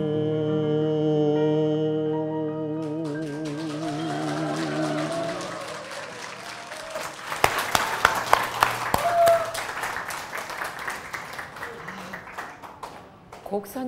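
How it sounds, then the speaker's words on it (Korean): Church audience applauding after a hymn, the clapping building from scattered claps into a fuller round that fades toward the end, following closing music and with someone speaking over it. "다시 한번 큰 박수 쳐주시기 바랍니다"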